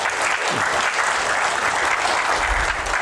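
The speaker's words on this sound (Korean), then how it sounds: "우리 새 학생들한테 박수 좀 부탁드리겠습니다." An audience at a history forum gives new students steady, dense applause that fills the room loudly and evenly for a few seconds, with no voices over it.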